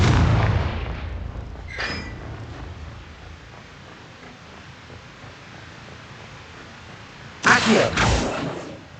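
A Confringo fire blast spell explosion in the Hogwarts Legacy video game, with a booming blast at the start, a brief crack shortly after, then quieter ambience before a loud double burst near the end.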